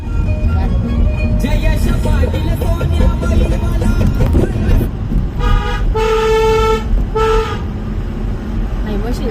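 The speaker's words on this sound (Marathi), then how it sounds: "त्या गाडीचा आवाज होता का?" A vehicle horn honks on a road over a busy traffic rumble, several toots in quick succession with a longer blast between them, while people talk nearby.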